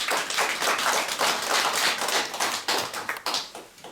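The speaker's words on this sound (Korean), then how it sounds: "박수로 맞이해 주십시오." An audience in a lecture room claps to welcome a lecturer giving a talk on Silla history, a brisk burst of close hand clapping that tapers toward the end.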